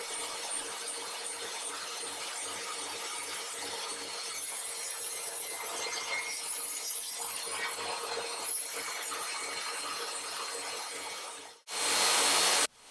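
A table saw cuts wood pieces with a crosscut sled in a workshop, giving a loud, sustained, rough whine of blade through lumber, with faint rhythmic thumping underneath, before a brief louder burst at the end.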